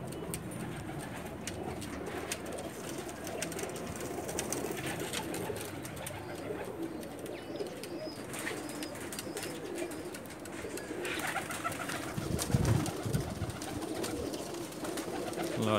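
Teddy pigeons, males and females of the breed, coo softly in a loft with low repeated throaty calls, more prominent toward the end, over steady background noise.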